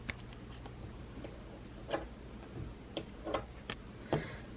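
Quiet, close snips and ticks of scissors cutting quilt pieces apart, a few light irregular clicks spread over several seconds in an otherwise hushed room.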